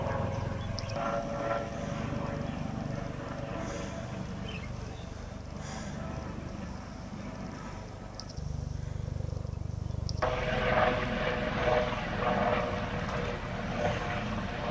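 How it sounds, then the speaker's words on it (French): A small sightseeing helicopter over Réunion Island drones steadily overhead, its engine and rotor noise constant and fairly loud, swelling even louder partway through. "il y a des petits hélicos qui vont à Mafat là"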